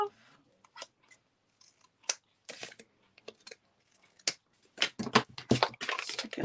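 Scissors trimming Flowering Zinnias designer series paper for a card, a series of crisp close snips and paper rustles, sparse at first then quicker and denser toward the end, with no talking.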